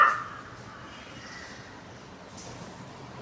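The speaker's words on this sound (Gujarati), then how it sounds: "આ કાળો કાગડો તો જો કેવડો મોટો છે. એ ક્રાવ ક્રાવ કરીને" A big, all-black crow gives one short caw right at the start, close and fairly clear, then only a faint outdoor background hiss remains.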